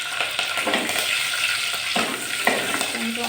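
Curry leaves and slit green chillies fry in hot oil for pulihora, a loud, continuous crackling sizzle close up with a few sharp pops.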